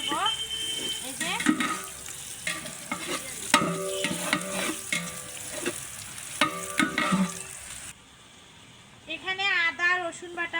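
Ground ginger-garlic paste with cumin and crushed garam masala goes into a hot pan at an outdoor village picnic cookout, frying with loud clatter and stirring scrapes; voices talk over it, then the sizzle drops away near the end.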